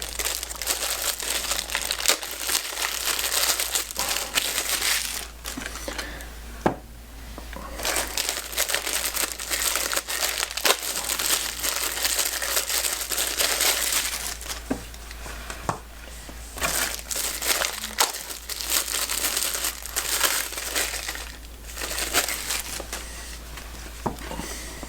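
Plastic bags crinkle and crumple loudly and close-up as baseballs are unwrapped from them, a dense, continuous rustle with brief pauses and occasional sharper crackles.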